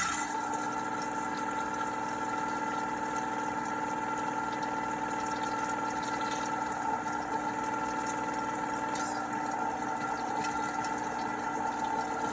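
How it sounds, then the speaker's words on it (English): An immersion blender whips aquafaba for homemade mayonnaise, a loud, constant motor whir with a steady tonal hum and faint churning of liquid, unbroken from start to finish. "usually I'm able to whip the aquafaba a little bit more"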